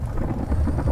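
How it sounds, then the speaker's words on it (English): Thunder rumbles through a misty rainstorm, a loud low continuous roll mixed with rain and wind buffeting the microphone, brief and close, with no talk. "Terrifying lightning"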